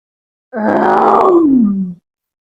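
A performer's voice imitates a lion's roar for a children's reading session, one loud, close, growling roar lasting about a second and a half, ending in a falling groan.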